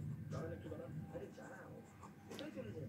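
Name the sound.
writing on paper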